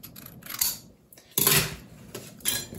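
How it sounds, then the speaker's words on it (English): Trimming an inch off the end of a venetian blind's metal top bar, with a few separate bursts of cutting noise between short pauses, close and moderately loud, no talking. "I'm gonna cut an inch off of the end of this"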